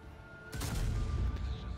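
BZ-75 tank firing its cannon in the World of Tanks video game, one loud booming blast followed by rumbling echo over a steady engine drone.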